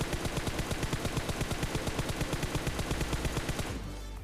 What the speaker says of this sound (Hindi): तभी इसका टीममेट दोबारा इसको बचाने के लिए मुझ पे फायर करता है